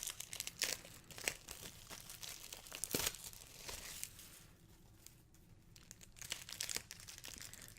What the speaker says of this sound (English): I'm just opening these with my pocket knife because I forgot to bring over scissors.